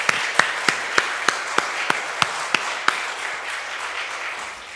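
A small church congregation at a Sunday service claps in unison, about a dozen sharp, evenly spaced claps at moderate distance in a reverberant hall, then fading out.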